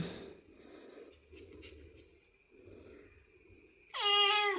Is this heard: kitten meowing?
yes